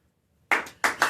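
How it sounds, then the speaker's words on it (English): An audience applauds in two short bursts of clapping after a speaker is introduced at a live venture event; the clapping starts suddenly, swells, dips briefly, then picks up again, with no talk over it. "A round of applause, everyone."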